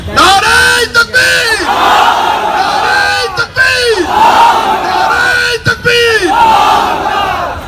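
A large crowd at Shahbag chants the Nara-e-Takbir Allahu Akbar slogan, voices roaring together in repeated call-and-response waves that swell and break with brief gaps, loud and close throughout.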